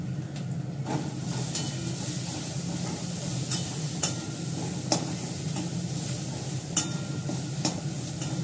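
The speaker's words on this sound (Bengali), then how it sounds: "বেশিক্ষণ লাগবে না ভাজতে এটা মশলাটা" Spices sizzling and frying in a pan, a continuous close crackle with occasional sharp clicks of stirring utensils against the pan, no talking.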